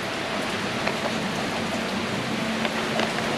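Steady rain falls continuously in the early morning outdoors, a dense even hiss with scattered droplet taps, no voices and no thunder.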